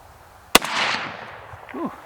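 A single sharp, loud 6.5 Grendel rifle shot fired at a pumpkin outdoors, followed by a fading rumble of echo, with a short voice sound near the end.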